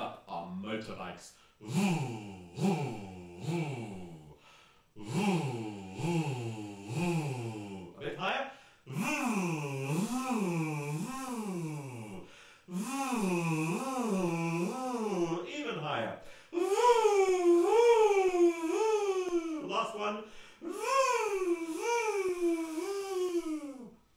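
A singing group's voices imitate revving motorbikes in a vocal warm-up, a string of short, wavering rising-and-falling vocal bursts, growing longer and louder toward the end.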